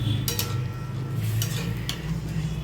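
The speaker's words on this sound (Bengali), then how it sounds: "ডালটা আমি মিশিয়ে দিচ্ছি" Boiled chana dal is stirred into a pan with a spatula, a few soft scraping clinks against the metal over a low cooking hiss.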